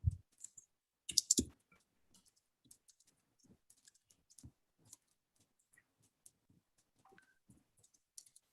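Quiet, scattered keystrokes on a computer keyboard as someone types questions, irregular soft clicks with a couple of louder taps near the start, no talking.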